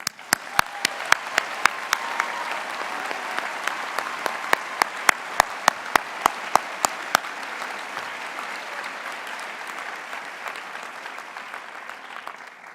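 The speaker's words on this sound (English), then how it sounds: "So let us begin here with a huge round of applause." A large graduation audience at the University of Utah College of Science ceremony applauds the faculty: dense, sustained clapping with sharp individual claps standing out early, then fading gradually toward the end.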